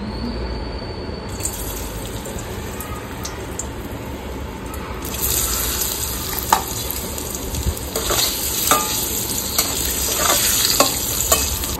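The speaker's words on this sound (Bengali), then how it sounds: "এই তেলটার মধ্যেই এটাকে হালকা করে ফ্রাই করে নেবো।" Onion, capsicum and garlic frying in hot oil with a steady sizzle, then louder bursts of spattering and the scrape of stirring, close by and with no talk.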